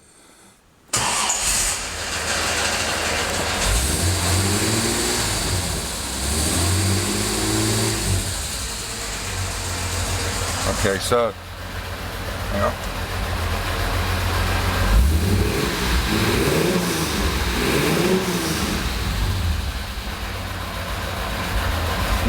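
A cold Jaguar E-Type, freshly restored and out of gear, cranks and fires, then idles with a steady, close mechanical rumble through several blips of the throttle, with a short spoken remark near the start.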